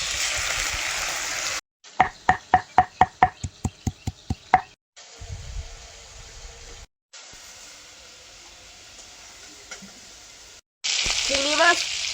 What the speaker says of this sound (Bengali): প্রথমে চিংড়ি মাছটা ভেজে নেব।